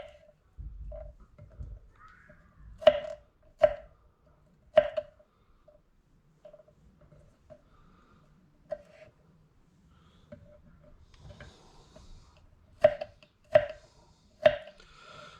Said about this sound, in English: cut up some more garlic